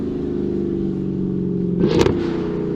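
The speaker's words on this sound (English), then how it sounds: "Car's pretty loud" A car engine runs with a steady loud idle, then revs sharply in a brief roar near the end before settling back.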